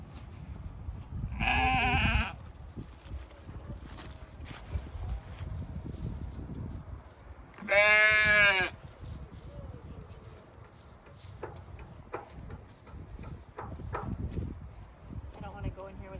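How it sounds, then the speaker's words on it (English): Two loud, drawn-out sheep bleats sound close by, several seconds apart, each roughly three-quarters of a second long, set against wind noise, rustling and scattered knocks around a farm shed. "Sheep."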